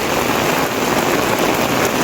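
Heavy rain pours down during a cloudburst in Manegaon, Madha taluka, a loud, dense and steady roar of drops beating on surfaces with no break.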